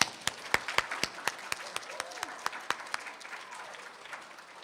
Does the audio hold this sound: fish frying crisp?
no